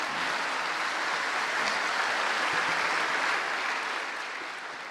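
A large hall audience at a campus general lecture applauds to welcome a deputy minister, a dense, even roar of clapping that holds steady and then slowly tapers off.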